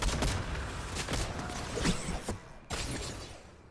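Gunfire in Fortnite, rapid cracking bursts loud and close, with a short pause before a final volley that trails off into quiet.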